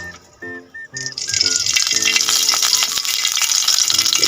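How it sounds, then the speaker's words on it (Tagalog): Cooking oil poured into a small frying pan on the heat, a few soft clinks at first, then a loud, steady sizzle and crackle as the oil heats, filling the rest of the clip. "bali lalagyan ko na ng mantika"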